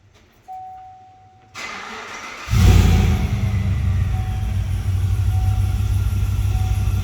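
Whipple-supercharged Chevrolet Silverado pickup with long-tube headers cranks and fires into a loud, deep, steady exhaust rumble, idling close by after a brief starter whir.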